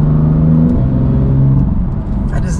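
A BMW M3 F80 with its stock exhaust revs and drones in a steady, muted tone, loud and close, settling slightly lower toward the end with no talk.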